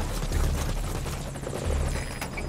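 A helicopter in Metal Gear Solid V: Ground Zeroes, flying with some damage, gives a steady, loud rotor and engine rumble with a dense low throb under broad whooshing wash.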